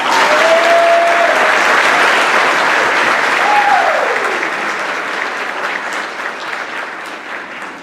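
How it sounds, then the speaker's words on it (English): Sustained applause from an awards-night audience for a school interpreter, loud and thick at first, then slowly thinning and fading, with faint voices and a couple of brief whistles near the start. "A round of applause for our interpreter"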